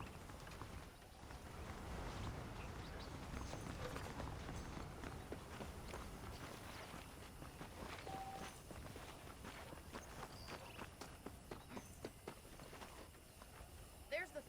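Horse hooves clip-clop steadily in Red Dead Redemption as a saddled horse moves along, a continuous run of close footfalls over a dense game soundscape, with faint voices mixed in.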